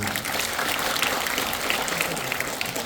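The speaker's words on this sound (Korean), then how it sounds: "큰 박수 부탁드리겠습니다" A room full of people at an apartment reconstruction residents' meeting applauding, a dense, even patter of clapping that holds steady for a few seconds.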